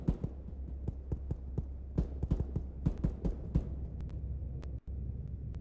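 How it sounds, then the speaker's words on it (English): In the military shooter game Arma, a low, throbbing heartbeat pulses steadily under a background hum, joined by scattered sharp clicks and distant gunfire-like cracks. "I can hear my heartbeat."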